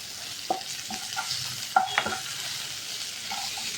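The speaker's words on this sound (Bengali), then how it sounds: "এবার একটু গোটা গরম মশলা ফোড়ন দিয়ে দিলাম" Whole garam masala and a bay leaf crackling in hot oil in a pan while preparing jora chira, with a few sharp pops and light stirring clicks over a quiet background sizzle.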